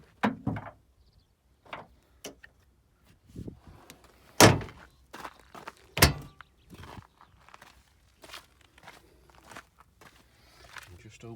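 Doors of a 2000 Suzuki Wagon R Wheelhome camper conversion being opened one after another, giving several separate clunks and thuds with quiet gaps and light handling noise between them.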